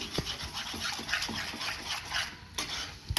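Eggs and chopped coriander stirred together in a pan for egg bhurji, a spoon scraping and clinking against the metal in an uneven rhythm, with a light sizzle underneath, close and fairly quiet.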